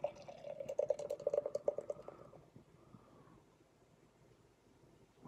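Schlitz beer pours from a can and fizzes into a glass, with a burst of glugging and splashing at first that tapers into a quiet, soft hiss.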